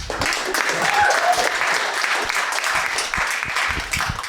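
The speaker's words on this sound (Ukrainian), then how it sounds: "Можете ще раз поаплодувати" A stand-up comedy crowd breaks into lively applause, a dense, continuous wash of clapping hands that holds steady from start to finish with a few voices mixed in.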